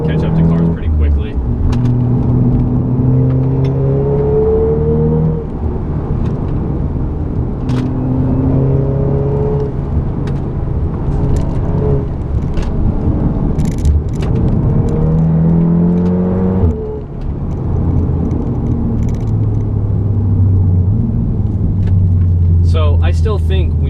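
A VW Golf R in manual mode, driven hard on the road, revs up loudly again and again. Its engine note climbs through each gear, then drops sharply at each shift over a steady road rumble.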